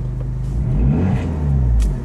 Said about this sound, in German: tipp mal aufs Gas ein bisschen.